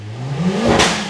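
A Mercedes-AMG CLA 45 S 4Matic+ Coupe 2021 with a 2000 cc four-cylinder engine revs hard toward its limit, the pitch climbing quickly then ending in a sharp pop, loud and close, no speech.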